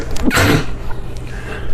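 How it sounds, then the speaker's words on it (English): A single sharp sneeze bursts out close to the microphone, followed by quiet room sound. "Hang on, I'm gonna sneeze."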